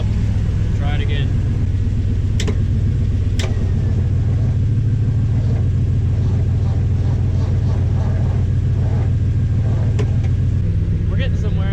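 Old truck engine cranking after its loose battery connections were tightened, a loud low rumbling churn running continuously up close, with a voice speaking over it.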